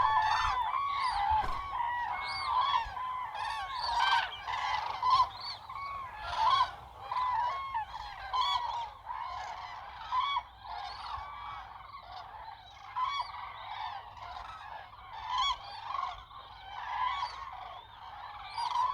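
A large flock of greylag geese honks continuously, dense overlapping calls near and far forming a constant cacophony with no talk.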